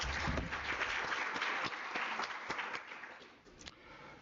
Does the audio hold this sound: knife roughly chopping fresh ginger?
no